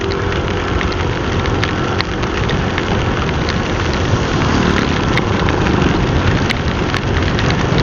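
Heavy rain pours onto an asphalt road before dawn, a loud, dense, continuous hiss with scattered sharp drop ticks and no voices.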